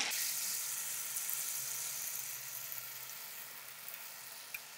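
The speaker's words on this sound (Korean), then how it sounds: "두부가 붙지 않게끔 해서요. 튀겨주도록 하겠습니다." Tofu pieces deep-fry in hot oil, giving a continuous bright sizzle and crackle that gently fades, with a few small pops near the end and no talking.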